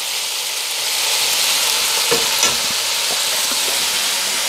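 Meat for a slow cooker chilli browns in a hot pan, giving a steady, close broadband sizzle with faint stirring clicks and no talk over it.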